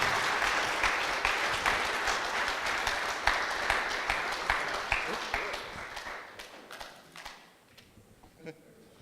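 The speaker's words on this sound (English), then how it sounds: "Let's do one more round of applause for Mikey Mike." A conference audience gives a sustained round of applause, dense steady clapping for about six seconds that then thins out to a few scattered claps.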